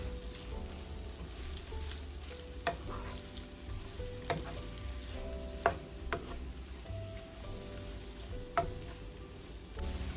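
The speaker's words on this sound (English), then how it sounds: "Just stir fry this for about 2 to 3 minutes." Habanero peppers and chicken gizzards stir frying in a pan, a steady sizzle broken by sharp clacks of a utensil scraping and tapping the pan every couple of seconds.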